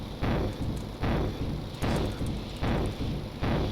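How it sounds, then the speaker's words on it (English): A helicopter in the game Stormworks drones with a harsh, grating tone, rising and falling in regular loud pulses of about a second each, with no talking. "that's a helicopter. It's making that terrible noise."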